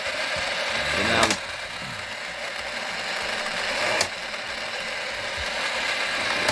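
A 1980s Tomy Kongman mechanical Donkey Kong toy running with its faulty bridge mechanism, giving a steady, close whirring and rapid ratcheting gear chatter with two sharp clacks standing out.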